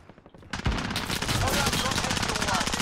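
Loud, dense automatic gunfire in Call of Duty Warzone breaks out after a brief quiet start and continues as a sustained rapid burst up close.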